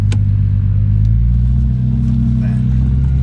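Mk3 Toyota Supra engine running with a steady low rumble and a mild rise in revs, close and continuous, while people talk over it.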